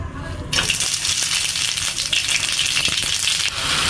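Meat tipped into hot oil in a small karahi sizzles loudly and steadily, a constant bright frying hiss with a few faint clinks and stirring scrapes, close by and with no talk.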